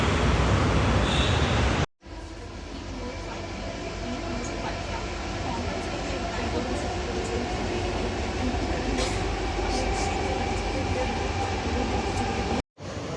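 Metro train sound at a station platform, a steady loud rumble that fills the whole stretch, with brief dropouts near the start and end.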